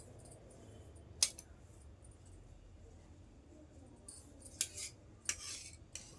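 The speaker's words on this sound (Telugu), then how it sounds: "ఇప్పుడు మనం క్రాస్ పట్టి కట్ చేసుకుందాం." Scissors cut a cross strip of blouse fabric, giving a few quiet, sharp snips spaced irregularly against a hushed background.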